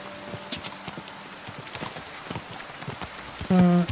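Horse hooves clip-clop in Kingdom Come: Deliverance II, a steady stream of faint hoofbeats under game ambience, ending with a louder tonal burst like a whinny or voice.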